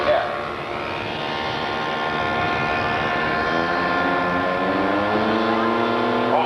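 A Waco YMF-3 biplane flies overhead, its radial engine droning steadily with harmonics that waver and shift in pitch as it passes, moderately loud with a voice faintly present beneath.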